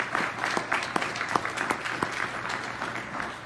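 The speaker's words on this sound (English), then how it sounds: "Let's give him another round of applause." An audience at a panel discussion on marijuana legalization gives a moderate round of clapping, with individual claps audible throughout a few seconds of steady applause.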